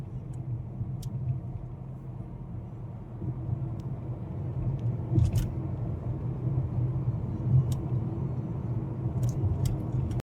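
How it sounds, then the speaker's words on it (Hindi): A car passes on a city street in Tashkent, a steady low engine and tyre rumble swelling slightly and holding for about ten seconds, with a few faint clicks and knocks nearby. "ये देखो गाड़ी जा रही है"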